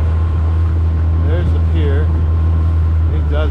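An outboard motor on a Highfield inflatable boat drones with a deep, steady hum while cruising near Bear Mountain, and a voice talks over the constant engine noise.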